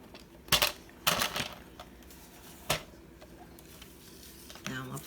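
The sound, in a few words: cutting a piece of cardstock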